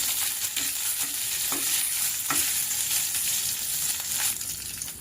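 Coriander seeds and Byadgi chilies frying in oil, a quiet steady sizzle with a few soft stirring scrapes, close but faint, with no talking.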